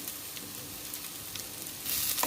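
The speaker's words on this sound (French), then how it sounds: "Je vais faire venir les oignons dans l'huile d'olive." Onions frying in olive oil over medium heat for a plum chutney, a soft hiss of sizzling with a faint crackle, briefly louder at the end.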